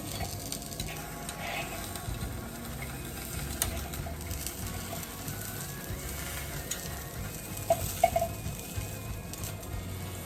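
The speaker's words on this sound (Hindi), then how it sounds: "पाए हमारे हो चुके हैं, देखिए इस तरह से इनको सेंकना है। ये इस तरह से थोड़ी सी आंच तेज कर देते।" Goat trotters (paya) sear in a pan over high heat, giving a steady close sizzle with light crackles and an occasional scrape of stirring.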